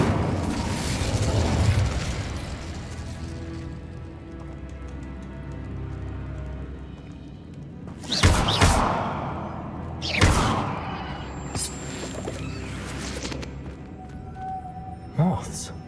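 An Incendio fire spell is cast in a wizarding video game set at Hogwarts, with sharp whooshing bursts near the middle and end standing out over a continuous game soundscape.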